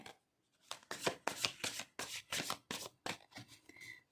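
Tarot cards being shuffled by hand give a run of close, crisp riffling bursts in quick succession, with no voices over them.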